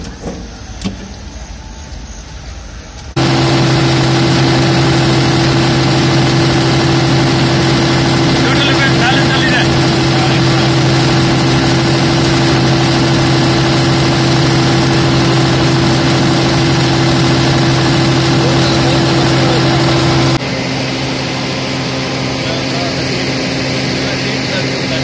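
A generator engine driving a Stamford 250KVA alternator starts up and runs at full RPM, a loud steady drone with a strong low hum that holds constant, then drops slightly near the end, with voices faintly underneath.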